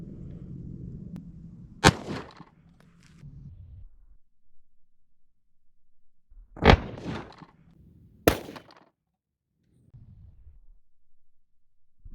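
A Glock 31 pistol in .357 SIG fired at ballistic gel from 15 feet, with three sharp, loud shot cracks standing out against quiet background murmur and handling noise.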